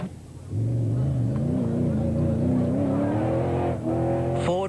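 A V6-powered Nissan Hardbody rally truck races in the Sun City 400 production vehicle class, its engine droning steadily and rising in pitch as it accelerates, loud and close, with a voice talking over it.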